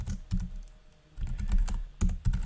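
Keystrokes on a computer keyboard during a software tutorial, coming in quick irregular clusters of clicks with short pauses between bursts, close and fairly quiet, with no talking.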